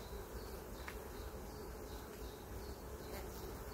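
Honeybee colony humming inside an opened hive during a colony check, a soft continuous buzz with a few individual bees passing nearby, faint and close.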